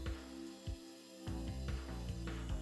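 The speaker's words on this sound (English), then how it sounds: "No problem, I have an angle grinder." An angle grinder cutting tabs off metal brackets inside a Honda Civic being restored, a loud steady whine broken by brief dips, all close by with no talk.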